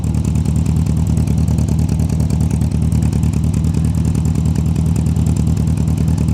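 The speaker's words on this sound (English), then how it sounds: "As you can hear, it has new exhaust on it." A small Austin-Healey Sprite engine with a new exhaust idles with a throaty, rumbling note, steady and fairly loud, the pulses of the engine clearly audible throughout.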